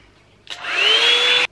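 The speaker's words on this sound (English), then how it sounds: "So instead of blow drying with a brush, just has a freaking brush on the freaking blow dryer." A hair dryer with a built-in brush attachment switches on and runs as a steady, close, loud whirring whine for about a second before cutting off abruptly, with no talking.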